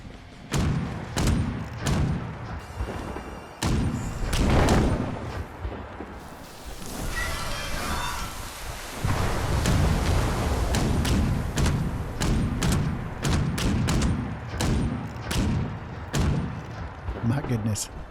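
The Furious Gatling Gun in Fallout 76 fires in repeated bursts of rapid, heavy thumping shots with short pauses between volleys, loud and close, while a person talks over parts of it.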